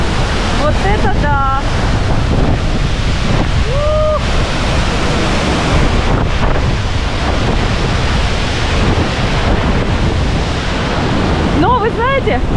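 The Uchan-Su waterfall in Yalta roars in full flood, a dense, loud wash of falling water and wind-blown spray close to the microphone, with brief exclamations from people nearby.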